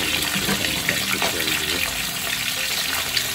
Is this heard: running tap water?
yes